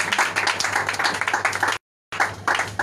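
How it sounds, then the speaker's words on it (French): A church congregation claps loudly and steadily in dense applause mixed with voices calling out, broken by a brief silent gap before the clapping resumes. "Acclame encore fortement ça."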